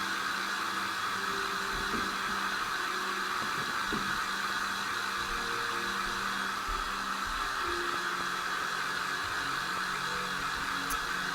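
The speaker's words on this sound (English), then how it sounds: "Let me just hit it with a hair dryer." Hair dryer running steadily at close range, a constant whooshing hum blowing on a painted craft gnome, with faint handling bumps underneath.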